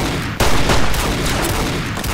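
Loud, dense gunfire in the video game Fallout New Vegas fills the whole stretch as a continuous barrage of overlapping shots, with a sharp burst near the start and no voices on top.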